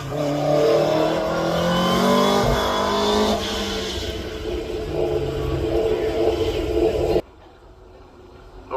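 Mitsubishi Evo 10 accelerating hard at the Craigantlet hillclimb, a loud close engine rising through the revs with a gear change, then fading as it pulls away before the sound drops off sharply.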